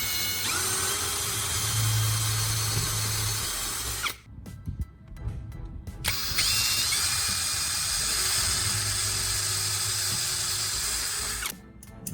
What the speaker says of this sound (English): Drill a hole through the metal and into the wood.